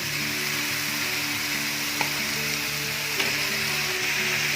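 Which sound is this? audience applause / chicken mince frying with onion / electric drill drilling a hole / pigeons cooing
chicken mince frying with onion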